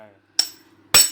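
A hammer drives a new seal into the leaking front fork of a Honda Wave motorcycle, with two sharp, close metallic blows about half a second apart and a brief ring after each.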